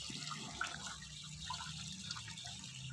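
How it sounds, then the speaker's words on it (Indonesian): Water pours steadily over boiled white noodles, a continuous close splashing rush of liquid that runs unbroken for a few seconds with no talking. "disiram dulu pakai air"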